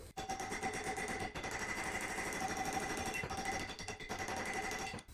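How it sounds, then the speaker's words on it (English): A hammer drives a steel chisel to cut a seam out of a part on a forged turbo M50 BMW E30 engine, making loud, dense, continuous rapid metallic clattering at close range with brief pauses and no speech. "I got this chisel and I've been hammering at it because this is the only way that this is coming out."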